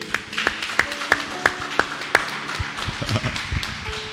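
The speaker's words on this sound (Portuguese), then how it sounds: "Quem pode aplaudir Jesus por isso, igreja?" A church congregation claps in a steady, rhythmic beat of sharp hand claps, about three per second. Later the claps blur into a looser, mixed patter of applause.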